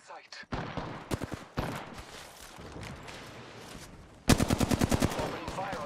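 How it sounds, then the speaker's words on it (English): Gunfire in the video game Apex Legends: scattered single shots early on, then a loud, rapid burst of automatic fire near the end, with in-game sounds around it. "Opening fire on the enemy."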